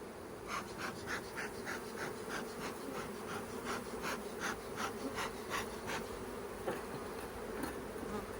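Honey bees buzzing loudly in an opened hive box, a thick continuous drone with individual bees flying close past in quick bursts.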